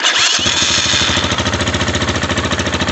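A 2019 XMOTOS 250cc dirt bike fires up on full choke, the starter's brief whir giving way to a loud, close, steady pulsing idle that thumps rhythmically throughout.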